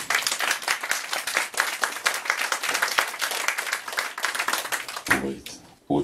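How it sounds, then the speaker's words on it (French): An audience claps and applauds at a tribute evening for a poet, a dense steady patter of many hands for about five seconds that breaks off abruptly near the end. "On l'applaudit pour ça, mesdames et messieurs"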